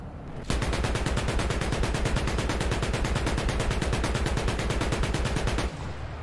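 Rapid, sustained autocannon fire in a combat video game involving BMP armored vehicles, a loud continuous stream of evenly spaced shots lasting about five seconds before stopping abruptly.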